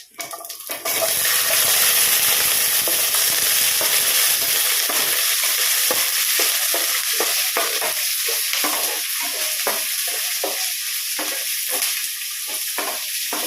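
Shallots sizzle steadily in hot oil in a pan while pongal is cooked, with curry leaves and dried red chillies in the oil; a loud, continuous frying hiss with faint stirring clicks throughout.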